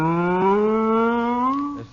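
A dairy cow named Bossy lets out one long, loud, close moo in a barn, a sustained lowing call that rises slightly in pitch before breaking off.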